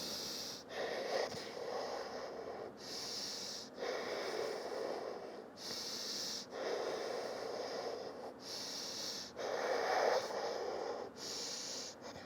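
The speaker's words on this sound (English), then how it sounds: "Deep breathing here." Slow, deep breathing in a yoga forward fold, with steady breath cycles repeating about every two seconds, each drawn-in and released breath close and clearly audible with no talking.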